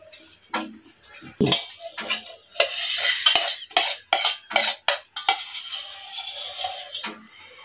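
Ingredients for labanga latika being mixed in a bowl, with irregular clinks, scrapes and taps of a utensil against the bowl, close and fairly loud, in uneven bursts.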